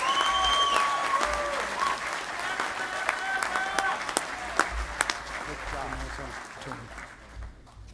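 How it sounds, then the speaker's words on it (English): Applause for microbiology graduates at a veterinary medicine and biomedical sciences commencement swells from a large crowd, with sharp individual claps standing out as it thins and fades, and a voice faintly heard beneath. "please join me in one more well-deserved round of applause for our graduates"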